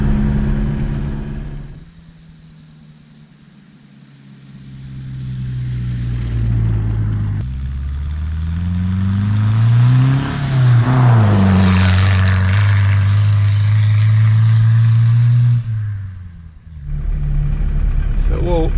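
A 1984 Dodge Ram 50 4x4 diesel with a 5-speed on the road, its engine droning loud and close, dropping off, then climbing through a strong rev and holding steady, with someone talking over it.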